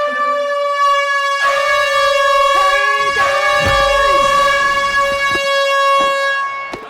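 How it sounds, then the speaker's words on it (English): Loud, sustained air horns blare with steady harmonic tones throughout at a baseball game, while faint voices shout underneath. "Screaming over the air horns"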